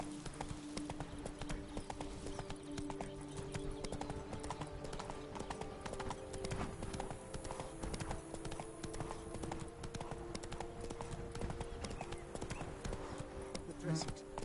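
Roach's hooves clip-clop steadily on a path in The Witcher 3, a close, continuous rhythmic beat running the whole time over a low game ambience, with a voice speaking now and then.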